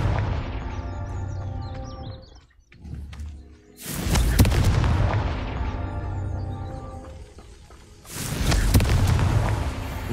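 Confringo explosive spell in a video game goes off in two heavy, booming blasts about four seconds apart, each followed by a loud rumbling roar that slowly fades, with no talking.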